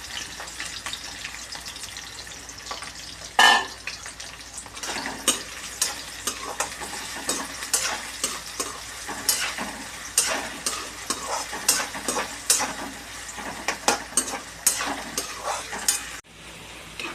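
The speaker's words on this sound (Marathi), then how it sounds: "आता आपण शिमला मिर्च परतून घेऊ तेलात।" Capsicum fries in hot oil for Bombay-style pav bhaji, a continuous close sizzle broken by frequent rhythmic scrapes and clicks of stirring, with one sharp clatter early on.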